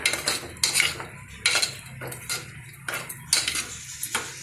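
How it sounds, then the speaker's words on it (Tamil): A ladle scrapes and knocks against a metal pot while green gram dhal is stirred on a stove, salt just added; clinking strokes come in irregular bursts, fairly close and alone. "நல்லா கலக்கி விட்டுக்கோங்க."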